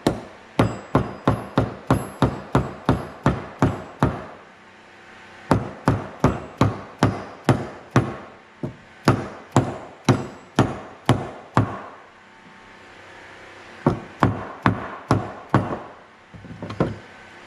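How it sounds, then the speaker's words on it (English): A dead blow hammer taps a part down into a hydraulic lift cylinder from a Case 450C bulldozer, with rapid bursts of sharp, close knocks in three runs separated by brief pauses. "Tap this down in there with this dead blow hammer."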